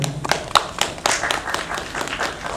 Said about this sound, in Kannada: ಆ ವ್ಯಕ್ತಿತ್ವಕ್ಕೆ ನಾವು ಎಲ್ಲರೂ ನಿಜವಾಗ್ಲೂ ಒಂದು ಚಪ್ಪಾಳೆ ಹೊಡಿಬೇಕು.